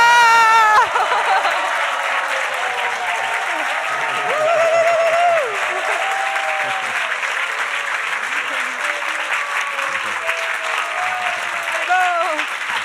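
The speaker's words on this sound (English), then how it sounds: "a big applause for Manu and blessings for his child" An audience at a Holy Name retreat's closing class applauds warmly for Manu, sustained crowd clapping mixed with cheers and excited voices calling out throughout.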